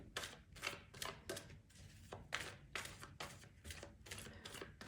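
Tarot cards being shuffled in quick bursts of crisp riffling and flicking, fairly close, with short pauses between runs and no talking.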